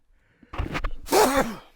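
A single loud, close sneeze: a sharp intake of breath followed by an explosive burst, in a quiet room with no talking.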